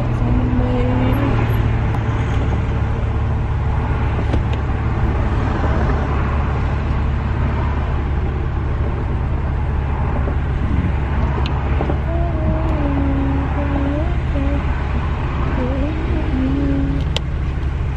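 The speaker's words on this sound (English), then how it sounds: "it's too much traffic out here now" Steady road traffic noise outdoors, a constant low rumble of passing cars and heavier vehicles with occasional engine tones rising and falling, while people talk over it.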